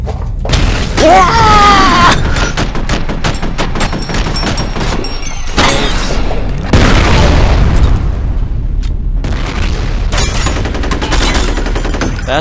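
Heavy gunfire and booming explosions fill this F.E.A.R. firefight: loud bursts, rapid shots and big impacts come in clusters across the stretch, with short quieter gaps between volleys.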